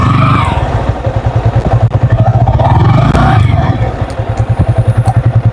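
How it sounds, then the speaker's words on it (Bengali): A 2020 Yamaha R15 motorcycle engine idles nearby with a loud, steady pulsing throb and brief revs, alone without talk. "বাইকটা হচ্ছে ইয়ামাহা R15 2020 মডেল"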